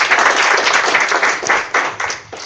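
Audience applause at a USAID-hosted event, a dense wash of many hands clapping steadily and fairly loudly, thinning slightly toward the end.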